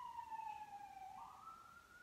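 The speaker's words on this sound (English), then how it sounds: "Oh shit, sirens." A siren wails in a falling, sweeping tone, fairly close, over a steady low rumble of street noise in Gravesend, Brooklyn, New York.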